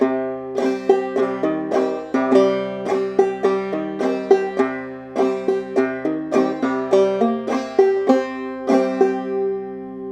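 A clawhammer banjo plays a passage from "Darling Corey," bright plucked notes and thumb brushes in a steady, syncopated rhythm, close and clear with no talking.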